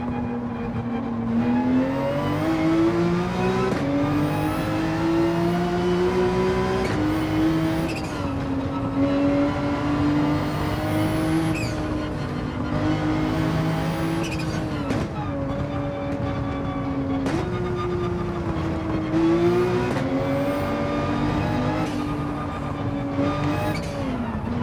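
Race car engine in a Nürburgring touring-car racing video game, loud and continuous, with tones rising through the gears, sudden drops at shifts and braking, and occasional tire squeal.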